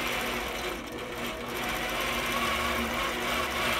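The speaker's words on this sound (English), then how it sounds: "this is being stitched out on my APQS Millennium with Quiltpath" APQS Millennium longarm quilting machine stitching a quilt under Quiltpath computer guidance, a loud, steady, fast mechanical whirring hum that runs unbroken from start to finish.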